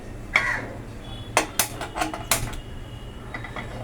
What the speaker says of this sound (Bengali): গ্যাসটা আমি জ্বালালাম